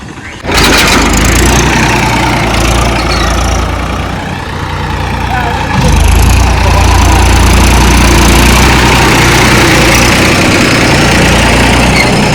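A tractor engine idling and running after filling a pit on a Gujarat farm, a loud steady low diesel rumble throughout, with a brief dip before rising again, close to the listener.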